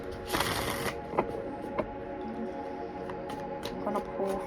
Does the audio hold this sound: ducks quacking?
no